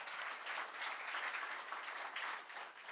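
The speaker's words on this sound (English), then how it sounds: "Pete, let's give him a quick round of applause." A quick round of applause from a tech forum audience welcoming a sales executive, dense steady clapping heard a little distant and sustained throughout.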